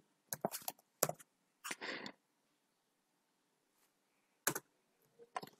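Captcha characters are typed on a computer keyboard in short bursts of quick, crisp key clicks, separated by quiet pauses, close by in a silent room.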